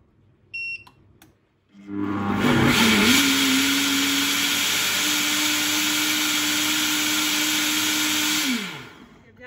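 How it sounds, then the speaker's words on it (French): Kitchen blender pureeing cooked tomatoes, starting up after a brief clatter and running at a steady loud whine for several seconds before spinning down. "je vais tout transvaser dans le blender et puis mixer"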